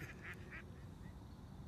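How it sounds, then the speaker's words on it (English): Ducks near water, a few faint quacks close together at the start, then quiet ambient outdoor noise. "The ducks are converging on me."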